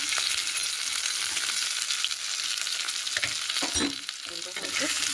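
Potato and cauliflower pieces fry in a pan with a steady, close sizzle, broken by stirring and a brief scrape of the spoon, with no talking.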